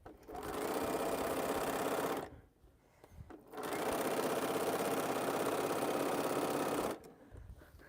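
A sewing machine quilting a quilt runs in two long, steady, loud bursts of rapid stitching, with a short pause between them filled by faint handling noise and another stop near the end.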